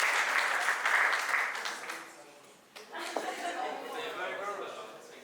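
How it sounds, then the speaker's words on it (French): Audience applauding at a startup demo day in Marseille, a dense burst of clapping that fades out, followed by renewed clapping and a voice speaking over it. "je vous demande d'applaudir chaleureusement Stéphane qui va nous présenter ce projet."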